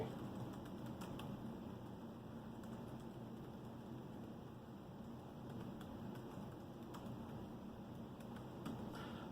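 Soft, rapid key clicks on a Lenovo Yoga 720 laptop keyboard patter steadily throughout, close by and fairly quiet over a faint hum, with no voices.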